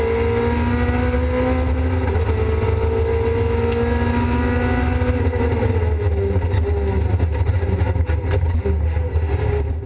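Onboard a Renault Clio 3 at a rally race start, the engine drones loud and continuous, rising in pitch through the gears, with other racing cars roaring nearby.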